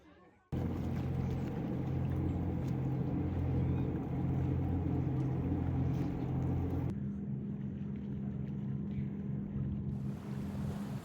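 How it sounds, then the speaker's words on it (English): A boat's engine drones steadily with a low hum over water and wind, continuous and fairly close, easing slightly in tone partway through. "we saw this really cool boat coming by"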